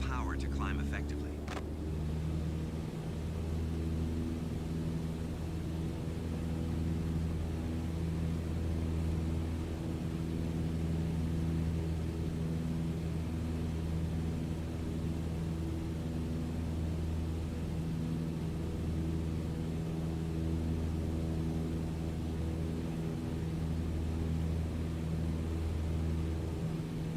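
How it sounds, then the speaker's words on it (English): Steady, droning propeller engine of a Cessna 152 at full power during a climb in Microsoft Flight Simulator 2020, a constant loud hum with no change in pitch, with a short tone at the start. "On the Cessna 152, you need full power to climb effectively."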